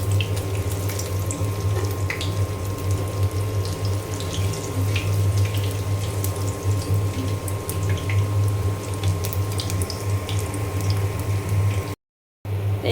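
Potato chops sizzle steadily in hot oil, a dense, even frying hiss that carries on nearly alone before a brief cut near the end.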